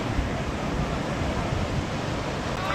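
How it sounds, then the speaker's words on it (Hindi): Ocean surf on a Goa beach in the morning, heard as a constant broad roar of breaking waves mixed with wind buffeting the microphone. The sound stays loud and close throughout. "और ये लहरें देखें आप कैसे ये भागती हुई आ रही है"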